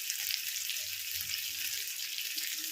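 Fish frying in oil on a tawa, a steady close crackle and sizzle with fine spitting pops filling the whole stretch, no voices over it.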